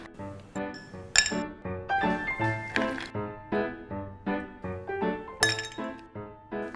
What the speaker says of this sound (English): I'm going to top it off with ice,